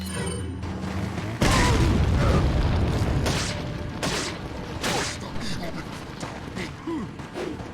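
A grenade blast in Resident Evil 4 erupts as a loud, booming burst, followed by several more scattered pops and thuds from gameplay over a continuous background rumble, while a voice talks intermittently.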